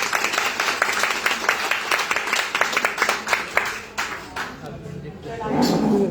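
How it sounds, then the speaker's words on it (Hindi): A seminar audience claps steadily for about four seconds in a dense, rhythmic burst of applause that then thins out and fades, with voices heard underneath and after it. "तालियां बजा सकते हैं इनके लिए।"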